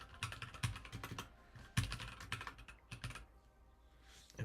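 Fast bursts of typing on a computer keyboard during a late-night Python coding session, dense clusters of quiet clicky keystrokes in two rapid runs with brief pauses, near and soft, no talking.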